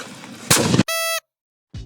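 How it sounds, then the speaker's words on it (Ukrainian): A single loud gunshot blast rings out, immediately followed by a brief high electronic tone, then silence. "Постріл!"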